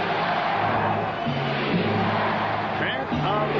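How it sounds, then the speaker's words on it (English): Basketball arena crowd at a 1997 Finals game, Utah versus the Bulls, holding a steady loud roar with rhythmic chanting rising through it as play goes on. "Chant of defense from the crowd here on Stockton"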